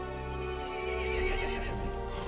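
A horse in the video game Resident Evil Village neighs loudly and at length, a strained, rising whinny over a rumbling background, with no voices.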